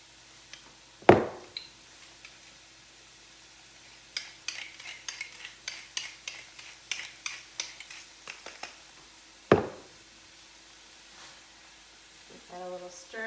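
A utensil stirs onions and broccoli sautéing in a pan, with a soft steady sizzle under a quick series of scraping, clinking strokes and two louder knocks against the pan.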